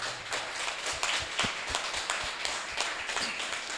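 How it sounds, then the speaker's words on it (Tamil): Men in an audience at a Women's Day celebration clap together in a brisk, uneven burst of applause that keeps going steadily, with a faint voice underneath. "ஆண்கள் கைத்தட்டி உங்களுக்கு வாழ்த்துக்கள் தட்டுங்கப்பா"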